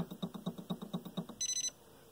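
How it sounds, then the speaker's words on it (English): A Janome MC9900 sewing machine ticks in an even run of close, soft knocks as its needle steps left, then gives a short, bright buzzer tone signalling the needle has reached its leftmost position. "The buzzer means it's all the way to the left."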